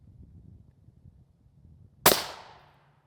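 A single sharp, loud gunshot cracks at close range against an RMA Model 1192 NIJ Level IV body armor plate, striking near its bottom edge, then rings and decays after a stretch of low background rumble.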